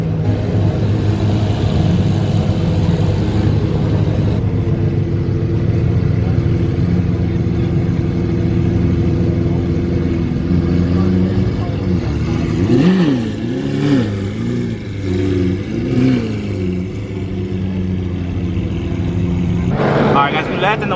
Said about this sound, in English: Damn, that startup.